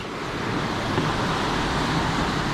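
Steady, broadband wash of Caribbean Sea surf rolling continuously, with a low rumble and no voices, like waves breaking nearby along a shore at Capurganá, Colombia.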